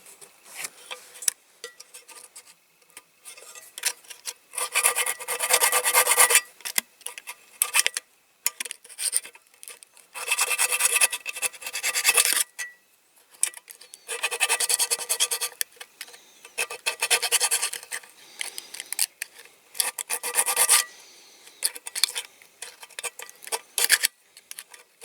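A metal file rasps in repeated bursts against a die-cast Dinky Toys shovel dozer part, short scraping strokes separated by brief pauses, close and moderately loud.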